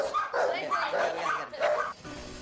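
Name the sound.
aggressive pug barking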